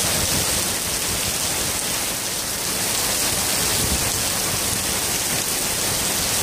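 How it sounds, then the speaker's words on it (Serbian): Heavy rain pours steadily over the centre of Belgrade during a prolonged downpour, a dense continuous hiss of water hitting streets and surfaces, loud and unbroken with no voices. "Kiša."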